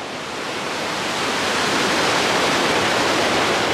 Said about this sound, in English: I love the noise of the water, the rushing water.